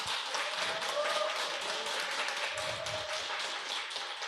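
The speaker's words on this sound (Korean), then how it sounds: "감사의 박수 부탁드립니다" An audience at a community assembly in Unnam-dong applauds, a fairly faint, steady patter of many hands clapping together from a distance.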